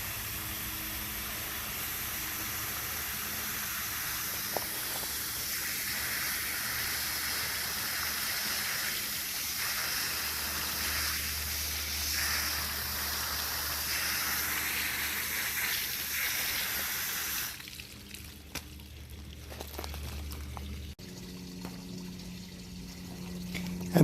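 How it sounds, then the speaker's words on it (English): Water running from a garden hose into a cleaned bucket outdoors, a soft steady splashing hiss that carries on for about seventeen seconds before cutting off, leaving quieter faint background noise. "I'm just going to fill it back up full of water"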